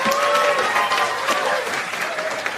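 Comedy-club audience applauding in a large theater, a dense, steady wash of clapping that holds loud throughout and tapers only slightly toward the end, with some crowd voices mixed in.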